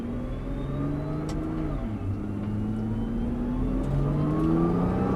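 A car on a race circuit pulls away in first gear with a manual gearbox, its mid-pitched engine climbing steadily, dropping briefly at the shift into second and then rising again, loud and continuous throughout.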